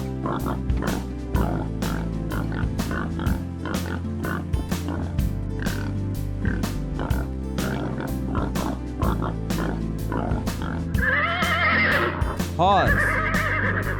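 A horse whinnies loudly near the end, a rising and falling neigh over a steady, bouncy children's music backing, set among farm animal sounds.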